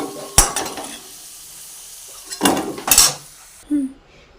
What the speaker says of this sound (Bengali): আমরা এবার আলুটাকে তুলে নিচ্ছি।